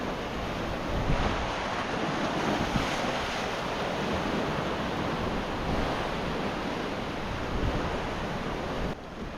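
Ocean surf rolls in at the 25 km beach near Agadir, a steady loud wash of breaking waves with strong wind buffeting the microphone throughout, no voices heard.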